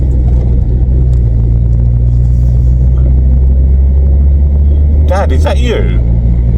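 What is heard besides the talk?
VW Vento car engine driving after changing gear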